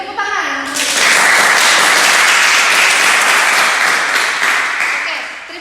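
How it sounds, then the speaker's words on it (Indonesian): Students in a lecture hall break into applause, a dense wash of clapping that starts after a short voice and holds steady for several seconds before tapering off. "beri tepuk tangan"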